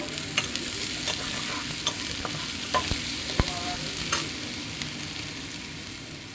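Dried fish with green chillies and salt frying in a pan: a steady close sizzle with scraping stirs and sharp clinks scattered throughout, no voices.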